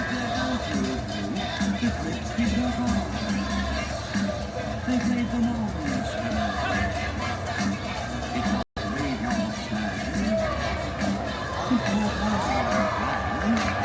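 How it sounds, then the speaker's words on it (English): A large crowd at a theme park cheers and claps continuously, a dense wash of noise with shouting voices throughout, briefly cut off near the end before resuming. "Big round of applause right there, folks. Make some noise."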